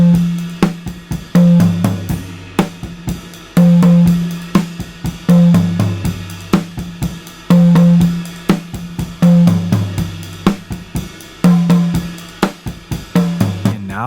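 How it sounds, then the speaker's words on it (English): A looping drum rack beat in which a tom rings out with a resonant, boomy low tone as a boosted EQ band sweeps across its frequency range. Kicks and cymbals keep a steady groove, loud and without speech. "Sweep the frequency range of the tom until you hear it resonate,"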